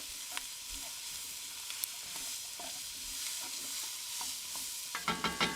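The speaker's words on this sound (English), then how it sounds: "Give it a mix and make sure you're scraping as you mix, getting up all of that stuck on flavor." A pot of chicken and dumplings gets stirred and scraped, with faint, intermittent spoon scrapes over a low simmering sizzle and a few clearer strokes near the end.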